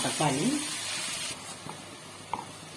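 Chicken and tomato masala sautéing in a pan, a soft frying hiss that fades after about a second, with a voice speaking over it and a few light stirring knocks later.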